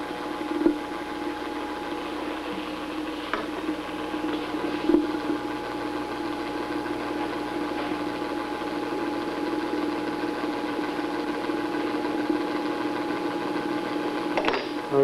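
Lab vacuum pump running while evacuating a closed glassware system, a steady mechanical hum with faint rhythmic vibration holding constant throughout.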